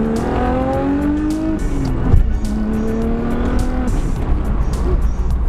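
An Audi B5 S4 with a stage 3 clutch, driving and accelerating, the engine note climbing steadily through several gears and staying loud and close from start to finish, with a brief clunk partway through.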